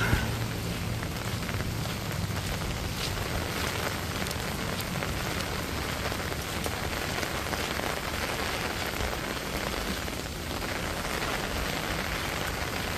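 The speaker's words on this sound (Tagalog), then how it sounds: "Lumalakas ang ulan sa bubong ng bahay." Heavy typhoon rain drums steadily on a house roof in Hong Kong in a dense, unbroken roar. The intensity stays even for the whole stretch, with no voices.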